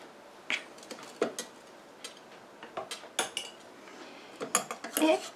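Calamine is stirred into a melted water phase for a homemade jojoba face scrub, heard as light irregular clinks and taps of a utensil against a container, close and quiet, with no speech.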